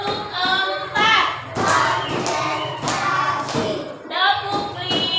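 Young pupils in an Indonesian grade-one class do a rhythmic tepuk clapping game: bursts of hand claps and thuds punctuate lively children's chanting and talk throughout.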